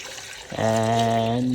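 Milk pours in a steady stream into a container, starting after a short pause with a rising, resonant filling tone that holds for about a second, close and fairly loud.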